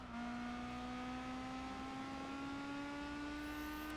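Honda S2000 with a racing exhaust in Gran Turismo 4 during an endurance race at Motegi: a steady, loud engine drone at sustained high revs, pitch creeping slowly upward throughout, with no talk over it.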